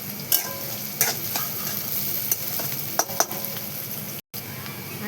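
Onion frying in a pan while being stirred, a continuous close sizzle broken by several sharp clinks and scrapes of the spoon against the pan, with no voices.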